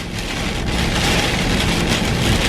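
Heavy rain pours steadily on a truck driving along a freeway, a dense, continuous hiss of drops drumming on the cab and road spray, loud and unbroken with no voices.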